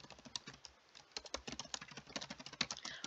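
Rapid typing on a computer keyboard, a close, steady run of crisp key clicks with uneven rhythm and a few louder strikes, heard alone without talk.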